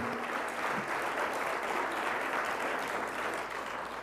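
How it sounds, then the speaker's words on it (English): An audience at a city-building awards ceremony breaks into applause, a faint but steady wash of many hands clapping that holds evenly for the whole stretch with no talking over it. "Again, a round of applause for Rosemarie."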